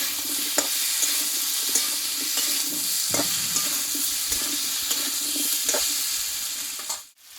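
Cumin, ginger, green chilli paste and tomato fry in a pan while being stirred, a steady sizzle running throughout with intermittent scraping strokes, close and fairly loud, fading abruptly near the end.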